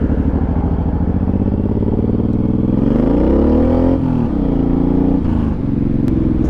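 A Suzuki M109R motorcycle accelerating on a sandy road with the rear tire spinning, a loud close engine roar rising in pitch through the gears, then dipping and climbing again.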